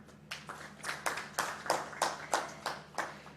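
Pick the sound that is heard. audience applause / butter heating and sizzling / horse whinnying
audience applause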